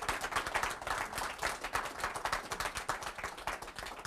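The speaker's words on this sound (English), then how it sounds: "This thunderous round of applause is for you." Audience clapping for a hypnosis subject, quick rhythmic claps from a small crowd, fairly faint and steady throughout with no talking over it.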